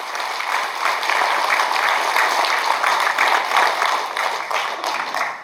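Dense, steady applause from a large crowd at a regional party chapter chairman's inauguration ceremony, continuous and loud throughout with no pauses.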